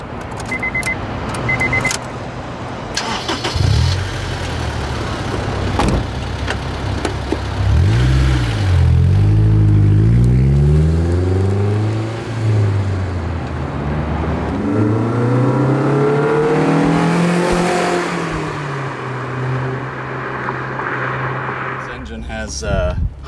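A Honda car with VTEC variable valve timing accelerating hard from inside the cabin, engine pitch climbing through the gears in rising sweeps, loud and close, with brief talk and a few key jingles at the start.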